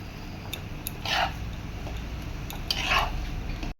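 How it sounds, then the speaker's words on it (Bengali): Peanuts being stirred into a samosa filling in a frying pan: two rasping scrapes of a utensil against the pan between light taps and clicks, close and fairly clear. "এই যে নামানোর আগে এই বাদামগুলো দিয়ে নেড়ে ভালো করে আছে"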